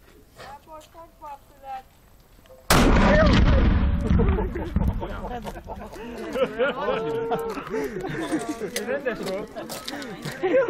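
A single deep, booming historic cannon blast erupts at an artillery demonstration at Monostor Fortress, Komárom, after a few seconds of quiet talk, then a crowd chatters and laughs loudly as the echo fades.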